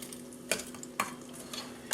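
Battered shrimp being turned inside an Actifry air fryer, with sharp clicks and clatters at roughly half-second intervals over a steady low frying hiss.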